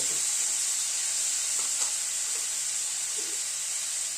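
Two chopped tomatoes and a whole spice mix sauté in a pan for a cabbage curry, giving a steady, close sizzle throughout with a few faint stirring scrapes and no talking.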